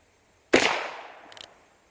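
A single sharp report from a used Colt Peacemaker .22 LR revolver fired from a bench, close and loud with a decaying tail, followed by a faint mechanical click or two.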